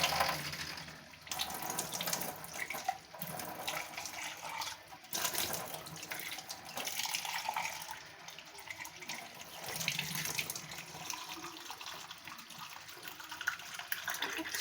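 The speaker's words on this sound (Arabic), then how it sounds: "بصوا بقى أنا أغسل البتاع ده" Tap water runs steadily into a kitchen sink while a utensil is washed, a continuous close splashing hiss with small clatters, no talking.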